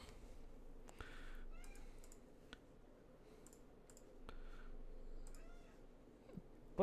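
Several short cat meows rise over a low room hum and scattered keyboard-like clicks, faint and indoors, spaced irregularly through the stretch with no voices.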